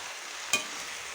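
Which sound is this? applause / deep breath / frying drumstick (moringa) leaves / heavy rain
frying drumstick (moringa) leaves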